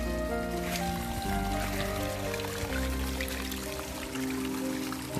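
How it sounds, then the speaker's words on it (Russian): A small stream of water seeps out of the ground below a building foundation, giving a steady, dense trickling and flowing wash that continues without pause under a low, constant hum. "У нас ручей образовался внизу нашего фундамента."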